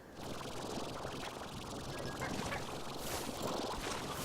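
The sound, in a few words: chickens in video game Slime Rancher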